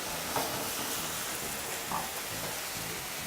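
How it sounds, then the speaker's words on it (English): Vegetables sauté in a pan for a broccoli cheddar bake as Chardonnay is poured in to deglaze, giving a steady close sizzle with two brief louder hisses and light stirring, no voices. "just to deglaze the pan, I'm going to be using some Chardonnay"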